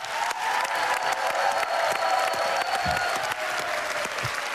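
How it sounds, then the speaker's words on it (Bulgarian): A game-show studio audience claps steadily and loudly for several seconds, a dense burst of applause that holds without pause. "Да изпратим със силния аплодисменти Георги Младенов!"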